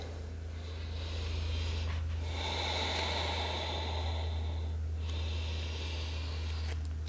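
Slow, steady breaths drawn in and out through the nose while holding a pose in an energizing hatha yoga flow, two long airy inhale-exhale cycles close up over a constant low hum.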